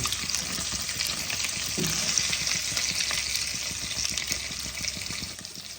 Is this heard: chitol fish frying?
yes